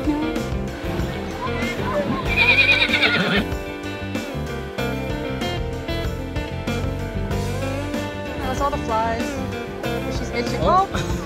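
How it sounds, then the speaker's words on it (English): Wild ponies on the beach at Assateague Island give loud, close whinnies alongside hoof clip-clops, while people talk excitedly over them. "there's so many horses"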